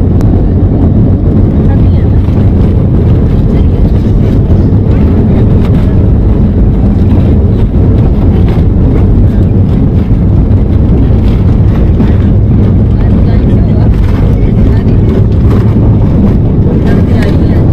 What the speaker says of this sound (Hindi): टेक ऑफ हो गया